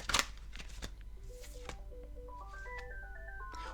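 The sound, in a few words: telephone ringing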